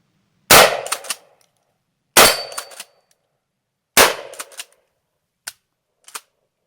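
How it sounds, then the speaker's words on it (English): Kel-Tec KSG shotgun firing mini slugs outdoors: three loud, sharp shots spaced about two seconds apart, each with a short ringing tail, followed by two fainter clicks or clanks of the action. "So we're just going to do some shooting now."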